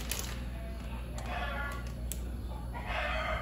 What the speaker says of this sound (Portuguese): E olha o seu galo aí cantando com toda a força, dona galinha também.